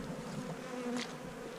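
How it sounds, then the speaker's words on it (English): Honey bees buzz around an opened beehive, a continuous close droning swarm with a brief louder pass of wings near the middle, no voices. "on top there's a lot of bees"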